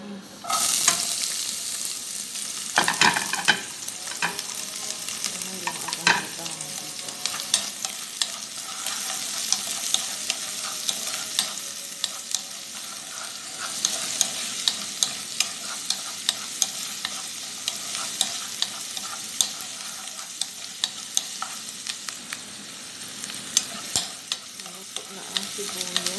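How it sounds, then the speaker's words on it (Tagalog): Onions sautéing in a little oil for an eggplant and potato dish, a long steady hiss of frying with frequent scraping stirs and light clinks close by, no one speaking. "Konting mantika lang guys. Ilunod na ako ang sibuyas."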